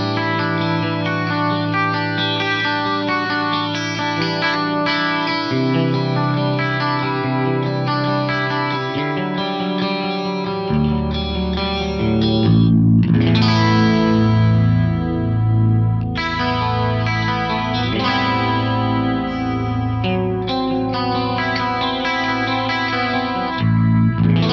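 An electric guitar played through a Digitech Timebender delay pedal set as a clean analog chorus rings out steadily for a long stretch, its shimmering, wavering chords and notes dense and sustained with no talking.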